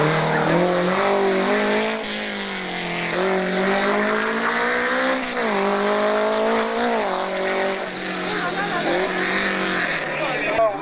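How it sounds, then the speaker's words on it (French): An Alpine Renault rally car at the Rallye Montastruc revs hard in angry bursts, its engine note climbing and falling repeatedly, loud and close, while a commentator talks over it throughout. "quelques coups d'accélérateur rageur, histoire de faire monter la pression, de faire monter la température de la voiture"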